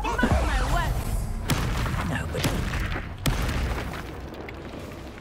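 A spell blast booms in Hogwarts Legacy, a loud burst near the start with a few sharp cracks following at intervals, rumbling combat effects underneath.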